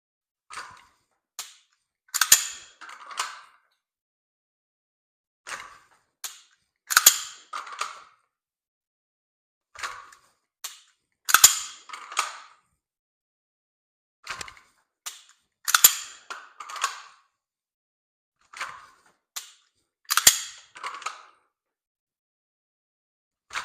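Dry-fire pistol practice at home: a handgun is drawn from a holster and the trigger snaps repeatedly, sharp isolated clicks in small clusters with quiet gaps, close and crisp, with no voices.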